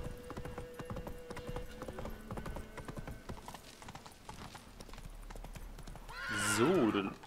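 Horse hooves clip-clopping steadily as Geralt rides in The Witcher 3, ending in a loud close whinny near the end, with game music and a voice talking over the ride.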